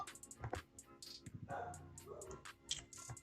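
A dog barks several times in quick bursts close by, sharp yips mixed with whimpering sounds, heard alone without talk.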